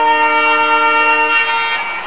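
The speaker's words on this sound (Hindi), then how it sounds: "आपने इसका हॉर्न सुन लिया" A single sustained train horn from the Indian Railways Train Simulator game blares loudly and steadily, then tapers off near the end.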